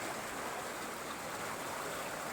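Clear river water flows with a soft, even rushing hiss, steady and fairly faint throughout, with no voices.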